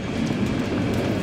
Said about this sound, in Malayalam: വിജനമായ ആ സ്റ്റേഷൻ വിട്ട് വീണ്ടും ട്രെയിൻ നീങ്ങി തുടങ്ങി